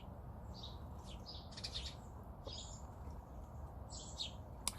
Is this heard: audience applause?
no